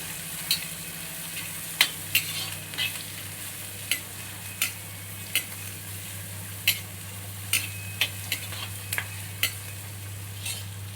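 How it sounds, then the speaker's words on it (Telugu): Two chopped onions frying lightly in a pan for a dal dish, a steady low sizzle running throughout, broken by frequent sharp scrapes and taps of a spoon stirring against the pan. "తర్వాత కట్ చేసుకున్న రెండు ఉల్లిపాయలు లైట్గా ఫ్రై చేసుకుందాం"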